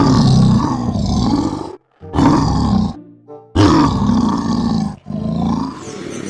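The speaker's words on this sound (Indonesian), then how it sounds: "ini hewan singa" Loud, close lion roars, played as a toy lion is being cleaned, come in several long, rumbling bursts separated by brief pauses, with no talking over them.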